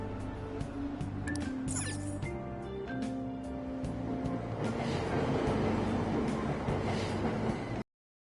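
Train and station ambience inside Persona 5 Royal, with a steady rumble, chimes and tonal announcement-like sounds, loud and continuous for about eight seconds before cutting to silence.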